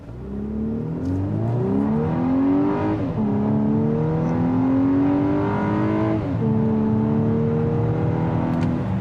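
A 2024 Volkswagen Atlas SEL Premium R-Line accelerates hard from a standstill, engine note climbing through gear after gear with clear shift dips, steady road noise beneath, heard from inside the cabin.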